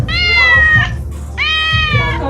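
Two drawn-out cat meows, each rising and falling, separated by a short pause; close and fairly loud against a low background murmur.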